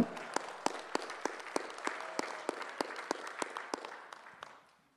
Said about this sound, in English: Let's give Mama Kay a round of applause